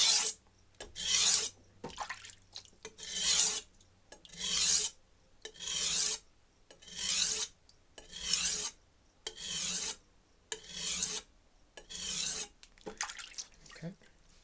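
A blade drawn back and forth across a diamond sharpening plate, steady rasping strokes about one per second, close and even in rhythm, with a low background hum between strokes.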